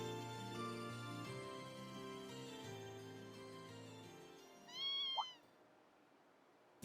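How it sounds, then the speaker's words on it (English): A kitten in Trails of Cold Steel II gives one short, clear meow over steady game music near the end, then it goes quiet. "Huh, what's the kitten doing here?"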